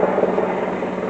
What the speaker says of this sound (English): So I continued to think about it as this helicopter goes over.